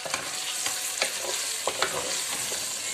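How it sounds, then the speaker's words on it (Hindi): Boneless chicken frying in a pan with onion, garlic and ginger, a steady close sizzle broken by occasional stirring scrapes, with no talking. "इसको मैं फिर जो मेरा ये था प्याज और लहसुन और अदरक इसके अंदर मैं चिकन जब ऐड कर दूंगी"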